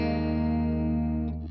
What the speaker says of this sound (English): So this is our glitzy reverb.